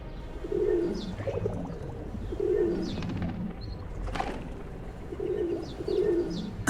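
Pigeons coo in soft, repeated low bursts near a riverside beach, several birds calling in an uneven rhythm with a faint wing flutter, and no voices.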